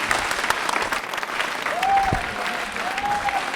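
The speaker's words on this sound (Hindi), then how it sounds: "जोरदार तालियां बजाइए" Loud, steady audience applause for a contestant named Meherbano at a teachers' training college quiz show, continuous clapping from many hands with a brief thump and a faint rising tone partway through.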